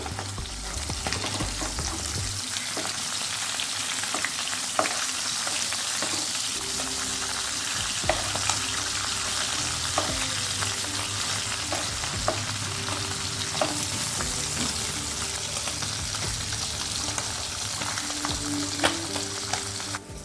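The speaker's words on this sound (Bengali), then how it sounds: "ট্যাংরা মাছটা ভাজার সময় খুবই সাবধানে ভাজতে হবে কারণ এটা থেকে তেল ছিটকায়" Tangra fish fry in hot oil with a dense, continuous sizzle and spatter. It runs steady and fairly loud throughout, with occasional stirring clinks and no talk.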